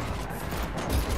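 Rapid gunfire in the Matrix Awakens Unreal Engine demo on PlayStation 5, a dense continuous burst of shots with heavy low rumble, loud and close, with no voices.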